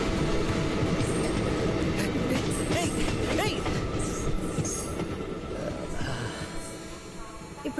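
A train rolls past in a steady, loud rumble with squealing wheels and rattling carriages, continuous throughout and fading slightly toward the end.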